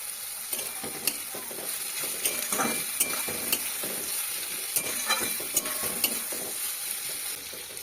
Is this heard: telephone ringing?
no